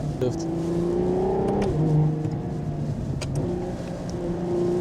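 A 2025 Ferrari Purosangue with 725 horsepower under throttle from inside the cabin, the engine tone rising then shifting pitch across gear changes over a constant road rumble, with brief sharp clicks and a voice exclaiming.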